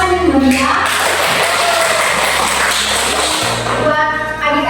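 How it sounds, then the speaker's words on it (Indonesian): Classroom applause for students after their presentations, with continuous clapping from a group of children under a sustained musical tone and some voices. "mari kita berikan tepuk tangan yang meriah"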